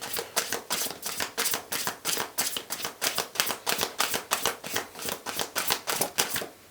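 A deck of tarot cards being shuffled by hand, a quick steady run of crisp riffling slaps repeating evenly throughout, close and clear with no voices.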